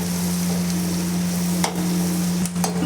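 Capsicum frying in homemade butter on high heat in a pasta pan, a steady loud sizzle throughout with a couple of brief stirring scrapes near the end.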